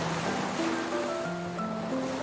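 Ocean waves wash steadily onto a shore in a steady, hissing surf, with soft musical tones layered over it for a children's story about sea turtles.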